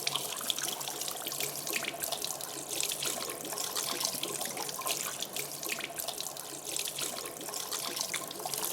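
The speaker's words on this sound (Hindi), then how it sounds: "और अपने हाथों को धो लीजिए।" Water runs steadily from a tap into a sink while hands are washed, a continuous close splashing stream with no talk over it.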